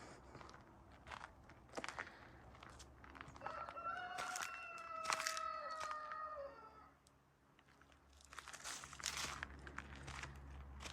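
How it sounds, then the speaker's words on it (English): A rooster crows a few times from a short distance, long harmonic calls standing out over a quiet outdoor farm morning in autumn with faint rustling. "The roosters say, "Get to work.""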